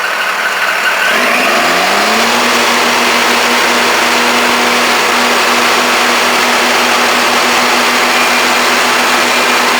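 A New Holland tractor with a toroidal transmission revs up over a couple of seconds, then settles into a steady, high-revving drone as it keeps running close by.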